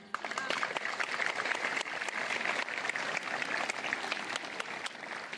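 Audience clapping at a school event at a gymnasium in Thesprotiko, a dense steady applause sustained throughout at moderate level, fading slightly toward the end.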